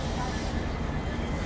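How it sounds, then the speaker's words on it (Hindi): A train with a WDP-4B diesel locomotive departs Badarpur Junction, a loud, dense, continuous rumble and roar with no clear breaks. "अपनी ट्रेन फाइनली निकल रही है बदरपुर जंक्शन से"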